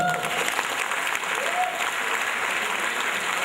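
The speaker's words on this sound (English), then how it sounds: "I want you to celebrate them now. Clap for them." An audience applauding a community gathering's parents, steady dense clapping sustained at even loudness throughout, with faint voices underneath.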